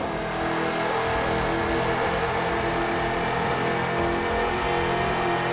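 Race car engines in the Ford Racing 2 video game, a steady loud drone of revving motors that holds constant throughout, with layered engine tones and no speech.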